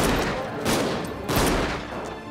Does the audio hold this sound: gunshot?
yes